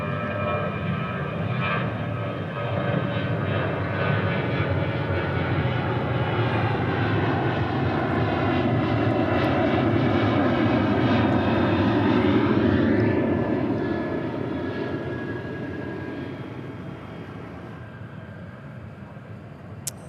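Aircraft engines roar steadily at DFW airport, a loud, continuous jet rumble that swells toward the middle as a plane passes, then eases back, with no voices over it.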